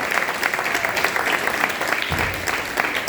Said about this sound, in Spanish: Un aplauso para la actriz